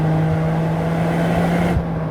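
A 2023 Toyota GR Corolla, a small hot hatch, accelerating hard with a strong, steady engine drone that climbs briefly before an abrupt gear shift near the end, heard from inside the car with no talk.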